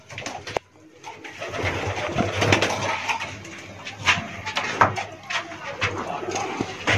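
A pigeon coos softly indoors amid rustling and handling noises, with a low hum underneath and people talking nearby.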